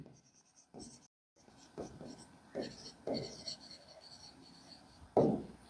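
A caption is handwritten with a pen in a few short, faint scratchy strokes separated by pauses, close by and quiet.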